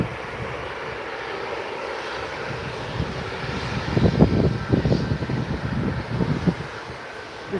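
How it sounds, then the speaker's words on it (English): A TUI Boeing 737 jet departing Manchester Airport, its engine roar building from a steady distant rumble into a louder, rougher surge with wind buffeting the microphone. "next to go is this TUI Boeing 737"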